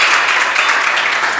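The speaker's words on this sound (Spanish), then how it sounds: "¿Querés darle un aplauso al Señor?" Applause from a church congregation during a Spanish-language service, a dense, continuous wash of clapping at fairly loud level across the whole moment, with no voices over it.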